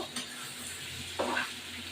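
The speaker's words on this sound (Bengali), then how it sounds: "মাংসটা কষানো হয়ে গেছে" Goat meat being sautéed for kosha in a pan, a soft steady sizzle with a brief scrape of a spoon against the pan, fairly quiet and close, no voices.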